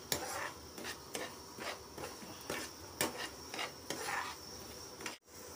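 Semolina roasts in ghee in a pan while a spoon scrapes and stirs it in soft rhythmic strokes, a quiet rasping sound that repeats about once a second.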